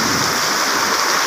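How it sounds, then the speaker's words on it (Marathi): Heavy rain pours down in a dense, unbroken hiss, loud and close with no voices over it. "लय खतरनाक मोठाच पाऊस आला मित्रांनो"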